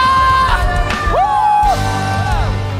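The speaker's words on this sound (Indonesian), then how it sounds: "Berikan sorak-sorak. Sorakan." A church congregation cheers and whoops together during a worship service, a loud, dense crowd sound with voices rising and falling.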